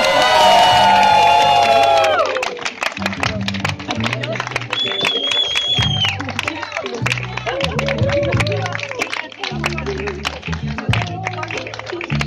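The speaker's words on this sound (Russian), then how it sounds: "А сейчас выход и бурные овации." A crowd at a registration event in Kakheti, Georgia, erupts into cheering, whoops and shouts for someone's entrance, loud and lively, while someone talks over it and music plays.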